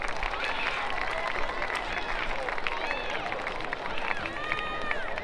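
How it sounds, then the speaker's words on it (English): Crowd at a soccer match gives sustained applause and cheering, with many hands clapping and scattered shouts and whistles filling the stands. "let's give all of our contestants a big round of applause for trying"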